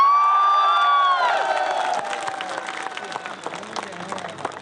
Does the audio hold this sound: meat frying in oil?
no